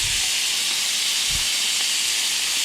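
A ribeye steak sizzles in a pan over high heat, giving a loud, steady hiss with a few soft low bumps and no voices.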